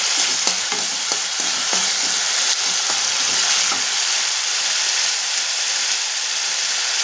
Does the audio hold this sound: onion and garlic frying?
yes